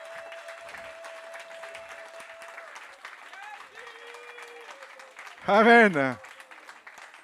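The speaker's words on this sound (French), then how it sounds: "applaudissons Jésus" A church congregation applauds in a soft, continuous patter of clapping that runs under a spoken voice, with a sudden loud vocal outburst near the end.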